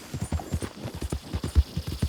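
Steady clip-clop of a horse's hooves at a brisk walk in Red Dead Redemption 2, close and clear, with a regular rhythm of about five hoof strikes per second and no talking.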